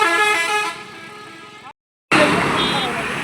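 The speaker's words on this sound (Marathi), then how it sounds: "आवाज लय येतोय गाड्याचा" Road traffic in Rishikesh, with a long, loud vehicle horn blaring up close at the start, a brief cut, then a dense wash of passing engine and road noise, with people talking over it.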